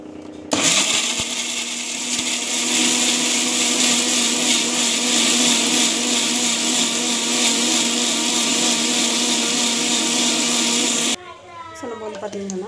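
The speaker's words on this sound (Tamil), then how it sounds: "மிக்சியில் போட்டுட்டு அரைச்சிக்கலாம்." A kitchen mixer grinder whirs loudly as it grinds masala for a dhaba-style aloo and peas kurma, a steady high motor drone that starts abruptly, runs about ten seconds and then cuts off, followed by a voice talking.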